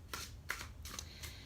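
Ghost Tarot cards being shuffled in the hands, a quiet run of four soft riffling bursts in quick succession, close and alone.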